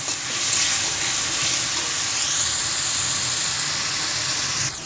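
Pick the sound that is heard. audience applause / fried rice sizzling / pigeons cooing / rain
fried rice sizzling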